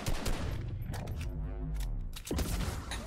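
Rapid gunfire in a video game, aimed at the Q: a quick string of sharp shots, then a pause with a tonal rumble, then more shots, fairly quiet and with no voices.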